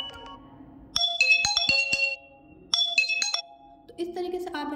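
Ringtone previews on an iQOO Z7 5G phone: two bursts of bright chiming bell-like melody, each about a second long, separated by a pause and followed by another brief tone, with speech before and after the chimes.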